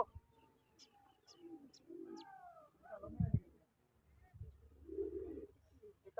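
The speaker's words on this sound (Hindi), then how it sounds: "सुंदर कबूतर माशाल्लाह" A pigeon coos in soft low bursts, with a few chirps and some background murmur of people talking, fairly quiet and nearby.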